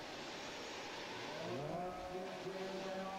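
Nitro RC buggies in a 45-plus Pro class main race at the AMS Alabama Manufacturer Shootout, their small engines whining in overlapping high-pitched buzzes that rise and fall as they pass, over steady broadband track noise.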